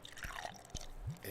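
Beer poured far too quickly into a glass, a short burst of wet glugging, splashing and dripping liquid heard up close, with a foamy rising head.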